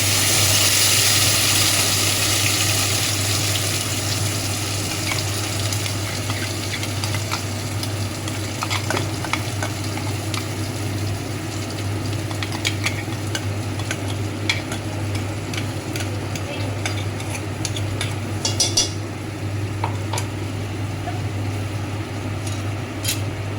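Ground mustard and poppy seed paste sizzles in a hot pan as it goes into the oil, a steady dense frying hiss with a low hum underneath and scattered stirring clicks, no voices.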